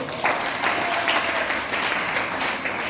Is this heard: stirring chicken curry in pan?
no